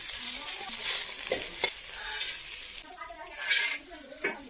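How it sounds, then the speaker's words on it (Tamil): Steady sizzling of garlic, dried red chillies, curry leaves and turmeric frying in hot oil, with occasional stirring scrapes rising and falling close by. "நல்லா ஃப்ளேவர் வர்ற மாதிரி அந்த பூண்டு மெரியிற மாதிரி நம்ம நல்லா வறுத்துடணும்"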